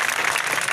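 A large crowd at an MQM Pakistan outreach rally in Malir Town claps loudly and continuously, a thick, close burst of applause with no speech over it.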